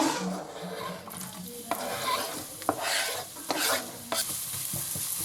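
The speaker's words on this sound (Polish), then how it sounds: "To się teraz tak podsmaża 2-3 minuty" Chopped garlic and onion sizzle steadily in hot olive oil in a pan, with repeated scraping stirs and occasional utensil clinks against the pan throughout, close and moderately loud.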